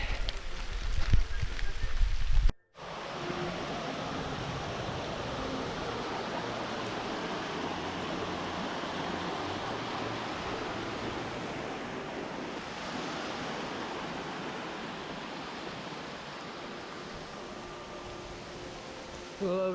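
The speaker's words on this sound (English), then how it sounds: "first mile, still raining" Heavy rain falling on a forest trail during a long-distance run, heard as a dense, steady broadband hiss after a brief louder rustle at the start, with some wind buffeting on the microphone.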